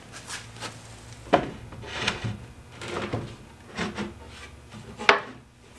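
Wooden top door being fitted onto a chicken brooder makes scattered knocks, scrapes and thumps of wood against wood, several sharp taps standing out over soft rubbing, up close.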